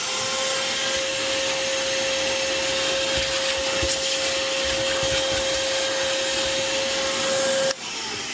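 A loud, steady vacuum cleaner drone with a constant high whine runs throughout while cleaning the boot of a dirty seven-seat Tesla, then abruptly drops off near the end.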